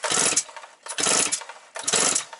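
A Motor Sich 475 walk-behind tractor engine with a misbehaving carburetor is cranked three times, each attempt a loud, rough burst of chugging that sputters and dies after about half a second, close by.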